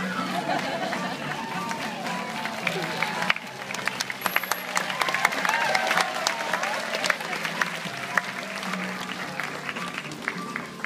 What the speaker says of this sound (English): I know you guys were cheering, but I don't think that was loud enough